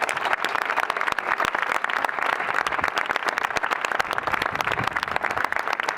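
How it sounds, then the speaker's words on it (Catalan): Applause from an audience at a talk about the estisoradores of Benissa, a dense steady patter of many hands clapping throughout, moderately loud and with no voices over it. "us agrairia un aplaudiment per a les estisoradores i les dones de la nostra comarca"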